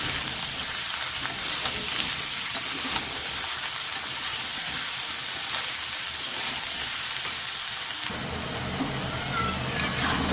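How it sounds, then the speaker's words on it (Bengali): Bottle gourd with prawns and salt is stirred in a hot pan for a lau chingri dish, giving a steady close sizzle with scraping stirs throughout and a brighter hiss near the end. "লবণটা দিয়ে পর আবারও সব কিছু খুব ভালো করে আমি মিশিয়ে নেব।"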